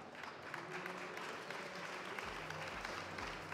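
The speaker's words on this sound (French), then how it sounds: "Je vous demande de l'applaudir." A conference audience at a retail industry event applauds a woman being called to the stage, steady broadband clapping filling the room with low rumbles beneath and no clear speech.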